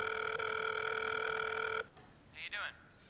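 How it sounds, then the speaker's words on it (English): Telephone ringing loudly and steadily with a harmonic electronic ring that cuts off partway through, followed by a short burst of voice. "Pick up your fucking phone."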